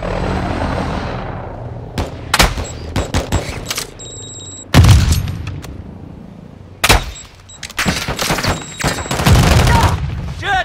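Call of Duty: Modern Warfare II Team Deathmatch gunfire, with loud, close bursts of automatic fire and single shots in repeated volleys, separated by short lulls and high electronic game tones.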